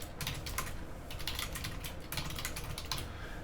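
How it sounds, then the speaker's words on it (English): Rapid, steady typing on a computer keyboard, close and crisp, with irregular bursts of key clicks and no voices. "if I keep typing in here"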